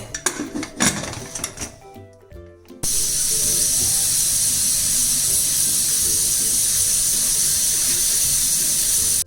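A pressure cooker full of mutton biryani lets out a loud, steady rush of steam that goes on for several seconds. Brief clinks of pots and utensils come just before it.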